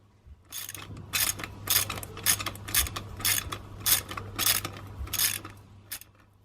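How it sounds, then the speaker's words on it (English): Motorcycle driven sprocket bolts being tightened with a 5 mm Allen key and a 14 mm wrench: a series of about a dozen close, crisp ratcheting clicks in quick bursts, evenly spaced, alone with no talk. "Tighten it using the 5 millimeter Allen key and the 14 millimeter wrench."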